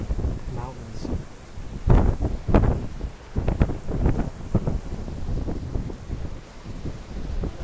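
Typhoon Haima's wind gusts across Victoria Harbour in Hong Kong, rumbling and buffeting the microphone in uneven surges, with a person's voice faintly mixed in.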